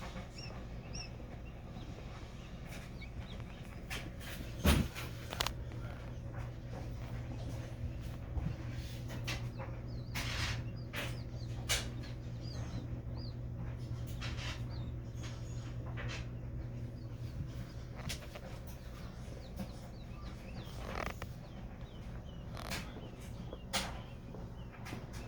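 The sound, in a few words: baby quail chicks chirping in incubator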